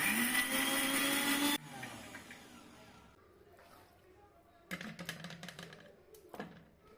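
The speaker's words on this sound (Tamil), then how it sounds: "இப்போ இது எல்லாத்தையும் சேர்த்து மிக்ஸி ஜாரில் போட்டு அரைச்சி எடுத்துக்கலாம்." A kitchen mixer grinder whirs loudly as its jar blends coriander, ginger and green chilli into paste for green chilli chicken, running steadily for about a second and a half before cutting off, then light clatter and handling noises follow.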